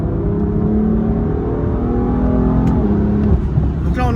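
A car engine with an aftermarket Akrapovič exhaust and no downpipe drones and revs under load with a throaty exhaust tone, shifting through third and fourth gears, with a voice speaking briefly near the end.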